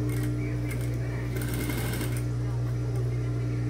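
Sewing machine stitching a blouse seam close to the edge, a fast steady mechanical whir with rapid needle ticking, loud and close, with someone speaking over it.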